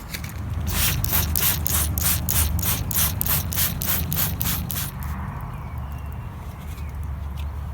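A homemade pump spray bottle of acid barnacle remover fires a quick, regular series of about a dozen sharp hissing squirts at a boat, then falls to a quiet background hum.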